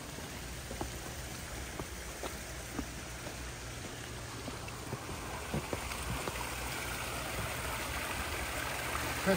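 Gentle flowing water trickles steadily through a garden stream into a pond, with scattered small drips and splashes, quiet and close, with no voices.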